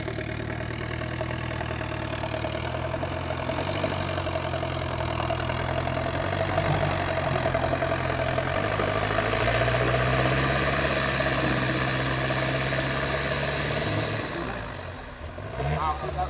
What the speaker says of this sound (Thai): เสียงวินไฟฟ้าครับมีเสียงครับ